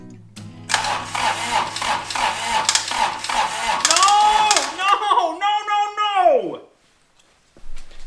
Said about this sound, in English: That's really cranking hard.